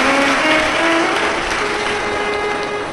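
A large crowd at a Shiv Mahapuran katha in Prayagraj claps loudly and continuously, a dense, even roar of applause with faint sustained tones running underneath.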